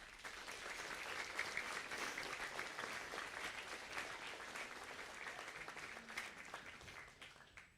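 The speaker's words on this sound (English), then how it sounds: "Give that a round of applause." Applause at a county fair livestock sale: a sustained wash of clapping from a crowd, fairly distant and quiet, holding steady before tapering off at the end.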